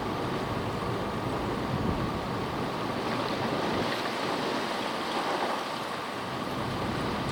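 Strong wind buffets across a lake, driving waves that wash and churn in a constant loud roar, with heavy gusts against the microphone and no talk.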